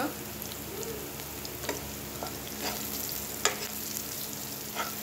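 Asafoetida dropped into hot oil with golden garlic and chilli for a raw mango dal tempering gives a steady close sizzle, dotted with a few small crackling pops.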